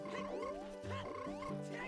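Frogs in the video game Ocarina of Time croak in a rhythmic, warbling sequence of sliding pitched calls, three or four bursts, clear and close with no speech.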